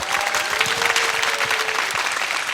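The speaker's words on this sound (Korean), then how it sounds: "박수." Studio audience applause at a live public broadcast, a brief burst of steady clapping from a crowd, fairly close and continuous, with a faint voice briefly underneath.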